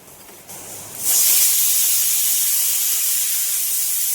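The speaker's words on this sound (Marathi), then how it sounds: "दोन शिट्या झाल्या आता मी गॅस बंद करते" A kitchen pressure cooker whistles, steam hissing loud and steady after a short rise, cooking chicken biryani on a gas stove; the sharp release holds for several seconds without talk.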